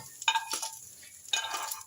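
Fried mushrooms being scraped and stirred out of a hot frying pan onto a serving dish, with two short bursts of spatula scraping and faint sizzle, close and fairly quiet, no talk.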